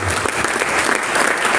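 A church congregation applauding, a brief dense burst of steady clapping from many hands, loud and continuous throughout.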